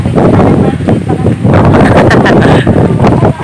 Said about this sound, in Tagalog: Ang lakas ng hangin dito mga kalab.